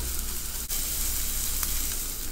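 Onion sautéing in a pan throws off a steady, close, dense sizzle that holds nearly unchanged throughout, with one faint knock briefly breaking the hiss.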